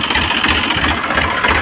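A Massey Ferguson 245 farm tractor idles on a field where a guar crop is being sprayed for weeds, a steady, loud, close diesel rumble with an even low throb and no speech.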